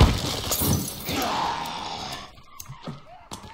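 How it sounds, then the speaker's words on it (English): Glass shatters in The Forest video game when a thrown tennis ball hits it, a loud bright crash with tinkling debris that fades over about two seconds, followed by quieter scattered sounds. "He throws a tennis ball, but actually breaks the glass."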